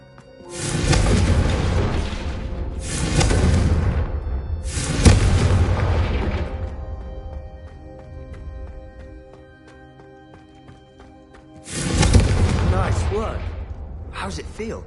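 Confringo spell blasts in the video game Hogwarts Legacy aimed at candelabras: four loud, booming fiery explosions, each swelling and then decaying into a rumble, with quieter stretches between them.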